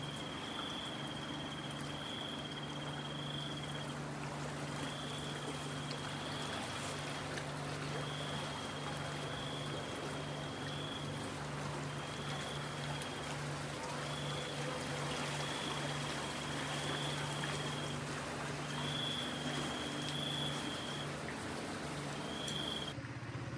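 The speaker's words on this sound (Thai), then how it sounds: "น้ำไหลค่อนข้างแรงนะครับ" Strong river current on the Lik River, heard from a riverside raft: a steady, loud rushing wash of water that continues for the whole stretch, with a faint high tone recurring in the background.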